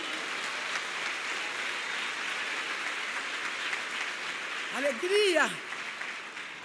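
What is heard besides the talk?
church congregation applause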